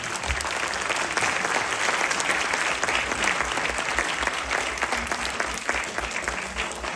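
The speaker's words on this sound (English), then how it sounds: "let's first of all hear a round of applause for all the finalists" Loud, dense applause from a quiz audience cheering the finalists, a steady wash of clapping that runs unbroken from start to finish.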